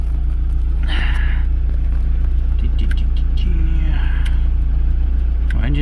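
A 1992 Volvo 460 turbo idles steadily as it warms up, a constant low engine rumble running throughout with faint background noise and brief higher-pitched sounds.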